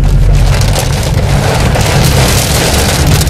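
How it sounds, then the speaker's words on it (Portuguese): Heavy rain pours down steadily during a storm outside a house, a loud, dense, continuous roar with strong low rumbling throughout, close and alone without any voices. "Uma chuva tão grande, com relâmpago, trovão"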